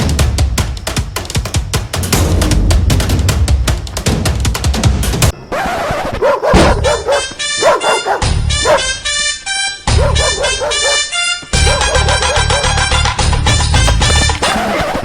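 Wild dogs in the Kangra countryside: a chaotic burst of crashing noise, then loud, repeated barks, yips and yelps overlapping in fast, irregular volleys close by.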